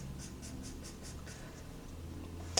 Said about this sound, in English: And then you start sketching like that.